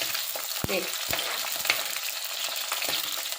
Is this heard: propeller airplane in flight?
no